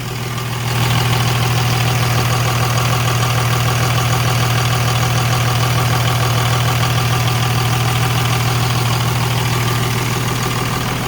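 A 2003 Freightliner SC-8000 truck carrying a Schwarze A7000 street sweeper body idles steadily after a brief start. A loud, continuous low diesel rumble with a dense mechanical clatter holds unchanged throughout, close up, with no voices.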